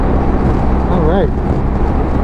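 Steady engine and road drone from a BMW R1250 GSA motorcycle riding along back country roads in Virginia, continuous and close, with a voice talking over it partway through.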